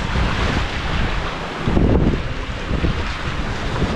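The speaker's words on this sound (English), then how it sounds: "We're being picked up by the waves sometimes." Wind and waves aboard the trimaran Twilight under sail, surfing down swells at speed: strong, steady wind buffeting a close microphone over rushing water, with a louder surge midway as a wave lifts the boat, and no voices.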